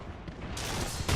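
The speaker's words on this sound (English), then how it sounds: "Knuckle cluster's firing." Knuckle cluster weapon firing during a multiplayer shooter match, a dense rumbling barrage of gunfire-like bursts that swells louder toward the end, close and continuous with no talk over it.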